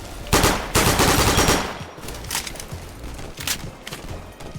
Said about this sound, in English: This gun does shred though.